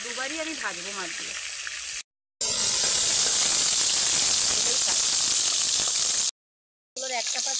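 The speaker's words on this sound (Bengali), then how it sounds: "দুবারই আমি ভাজবো মাছগুলো।" Pieces of shankar fish (stingray) frying in hot white oil in a pan, a steady loud sizzling hiss that runs for several seconds between short gaps, with a voice speaking over the start and end.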